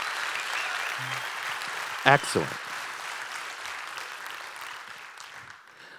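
A conference audience at Mirror Conf 2018 applauds steadily throughout, a broad wash of clapping and cheering that fades slightly toward the end, with someone speaking briefly over it near the start.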